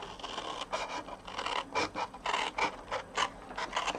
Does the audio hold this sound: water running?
no